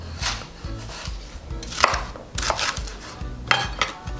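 A knife chops bell pepper on a cutting board, a steady run of sharp, close thuds with a few louder strikes, no voices over it.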